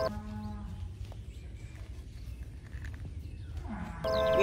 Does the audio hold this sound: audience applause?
no